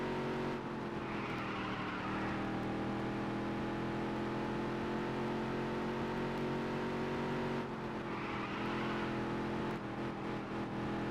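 Featherlite modified race cars in a racing video game drone steadily, their engines humming in a sustained mid-pitched roar with two surging swells as cars pass or accelerate, no voices over it.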